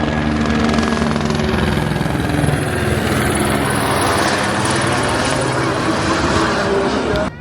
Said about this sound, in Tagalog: Oh my God. Helicopter.